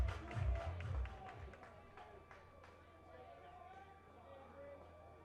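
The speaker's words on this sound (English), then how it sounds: "Everybody clap your hands." Stadium crowd at a UNCW versus Charleston college baseball game breaks into a short burst of rhythmic clapping, then fades into a general murmur while an announcer talks over it.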